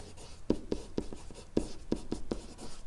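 Marker or chalk strokes write numbers on a board: a handful of quick, distinct taps and short scratches in an uneven rhythm, close and fairly quiet, with no voice over them.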